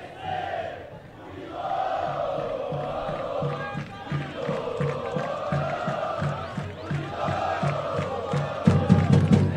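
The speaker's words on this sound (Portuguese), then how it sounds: "É, faz a festa, torcida do Unidos." Supporters of Unidos chant and cheer at a football cup final in Sumaré, a big crowd's rhythmic, sung chant rising and falling in waves, loud and sustained, with a burst of louder shouting near the end.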